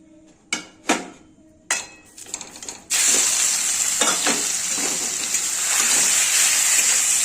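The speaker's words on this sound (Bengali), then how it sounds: "10 মিনিট ভেজে নেব চিকেনটাকে।" Chicken hits hot white oil in a wok: a few sharp clatters and knocks, then a loud, continuous hiss of frying that fills the rest of the clip.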